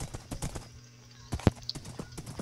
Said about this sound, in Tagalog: And may kabayo na rin ako